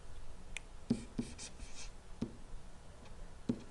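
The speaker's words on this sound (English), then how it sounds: "let's write down our no's" Pen or pencil writing down numbers on paper, with a few soft scratchy strokes and small taps spaced unevenly, close and faint against a quiet room.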